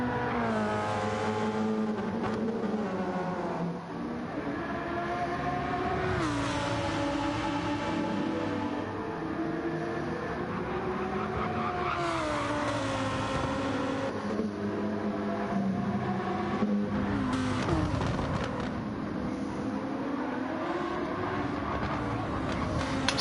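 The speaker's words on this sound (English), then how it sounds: "Porsche 919." Porsche 919 race car in a simulated endurance race at São Paulo, its engine note rising and falling through gear changes in a steady, loud, continuous drone with overlapping tones from nearby cars.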